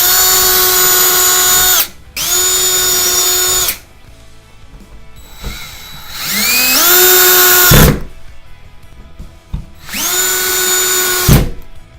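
A power drill driving screws into a wall to secure a TV wall mount: three loud, close bursts of whining motor, each spinning up and stopping, with quiet pauses between.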